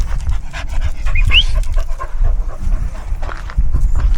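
A dog pants in quick, rhythmic breaths close to the microphone at a dog park in Great Bromley, Essex, with a brief high whine and faint footsteps in the background.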